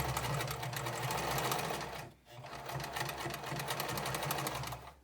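A sewing machine fitted with a zipper foot runs a line of top stitching along a zipper, a close, steady, rapid mechanical whir that halts briefly for about a quarter second and then resumes at the same even pace.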